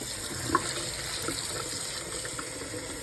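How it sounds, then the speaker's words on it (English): Hot water runs steadily from a kitchen sink tap while a cast iron skillet is being cleaned, a soft continuous rush with a brief clink near the start, fairly quiet and with no talking. "I got water running that's hot"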